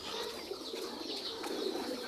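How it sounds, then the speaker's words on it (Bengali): Many pigeons kept inside a village house coo softly in a low, continuous murmur with faint bird calls, heard from a short distance over a steady background hiss. "এই যে বাড়ির ভিতরে কবুতরগুলো"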